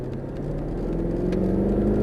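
A Mercedes-Benz SLS AMG engine drones at steady throttle on a Las Vegas race track, a continuous close, loud growl with a slowly rising pitch, steady for two seconds and free of speech.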